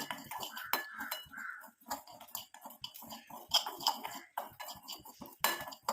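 Tea powder frying in a pan to make a homemade hair dye, giving close, irregular metallic scrapes and light clinks of a utensil against the pan, with no talking.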